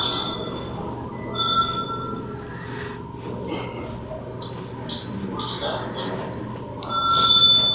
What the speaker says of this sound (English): The mysterious bell ringing sound can be heard throughout the video